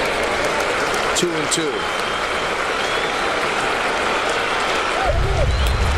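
A packed baseball stadium crowd of about 45,000 cheers and claps in a steady roar, with a broadcaster's voice speaking over it.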